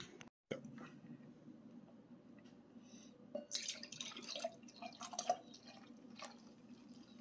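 A mixed drink is poured, giving a soft trickle and scattered drips and splashes that grow busier midway, close and fairly quiet.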